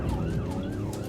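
An ambulance siren wails steadily on a code red emergency response for a collapsed man who is not breathing, rising and falling in continuous sweeps over road traffic rumble, loud and close with no talking.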